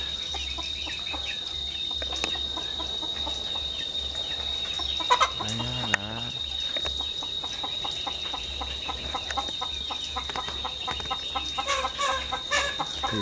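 Free-range chickens that roost in trees cluck and call softly outdoors, and one bird gives a short crow-like call. A constant high insect-like buzz and a low hum run underneath.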